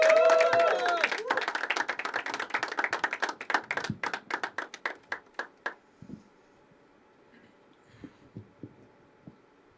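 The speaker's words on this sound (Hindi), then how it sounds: "जोरदार तालियां होनी चाहिए फॉर" Applause for a young poet at an open mic at a city venue, starting as a dense burst of clapping that thins into scattered claps and fades out within about six seconds, leaving a quiet room.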